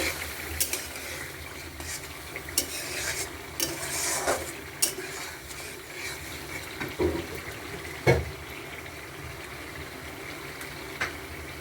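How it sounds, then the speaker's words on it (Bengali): Eggplant pieces go into a frying pan for a tilapia fish and eggplant curry, giving a low sizzle under scattered clinks and scrapes of a spatula against the pan, fairly quiet and close, with no voices. "তো দেখুন আমি বেগুনগুলো দিয়ে দিচ্ছি।"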